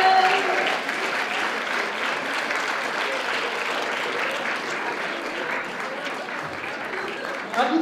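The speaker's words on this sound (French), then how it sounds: "On va les applaudir très très fort." A crowd at a cosplay awards event applauds guests on stage, a loud, continuous wave of clapping and cheering that holds steady from start to finish.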